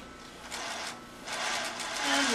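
A Singer 20U industrial sewing machine stitching, giving short bursts of close mechanical whirring and needle clatter that rise and fall at moderate loudness.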